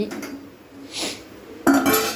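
Metal pot and lid clatter and clink in a few bursts, with a louder clank near the end, close by and without talk.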